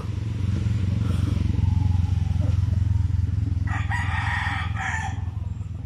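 Roosters at a farm poultry yard, with a strong crowing call rising in the second half over a steady low hum and background clatter, fairly near.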